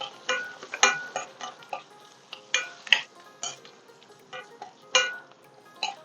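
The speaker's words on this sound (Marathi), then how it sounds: "भरपूर असा लसूण चेचून घेतलाय तो छान आता परतून काढायचा आहे" Crushed garlic being sautéed for garlic shev chivda: a spoon scrapes and clinks against the pan in irregular bursts over a faint background, close and fairly quiet, no voices.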